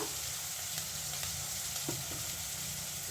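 Chopped onion fries with green chilies in a pan, giving a soft, steady sizzle with a few faint stirring scrapes.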